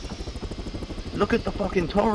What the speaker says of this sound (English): we got choppers landing